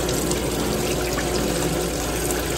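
A Micro Filter King cooking oil filtration machine pumping hot oil through its hose to rinse a fryer, a steady rushing, gushing flow with a constant pump hum, fairly quiet and unbroken.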